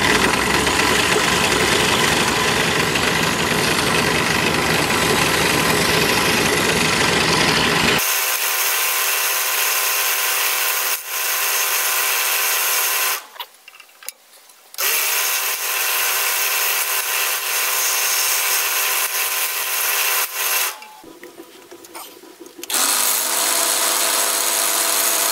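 A power saw cuts wood for a covered wagon puzzle, loud harsh buzzing at first, then settling into a steadier motor whine broken by two short pauses before resuming, close up and with no talking.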